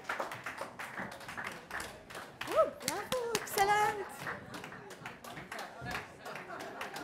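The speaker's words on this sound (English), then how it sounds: "A clap for your colleagues." Classroom group claps for their colleagues at a teacher masterclass, a loose run of sharp hand claps mixed with cheering, children's voices and excited chatter.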